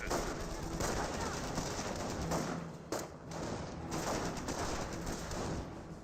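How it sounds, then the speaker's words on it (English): G43 squad gunfire in Company of Heroes, a steady battlefield clatter of rifle shots and bursts overlapping continuously, with a brief lull midway before the firing resumes at full density. "I hear the G43 squad engaging over here"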